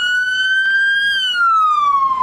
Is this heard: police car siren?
yes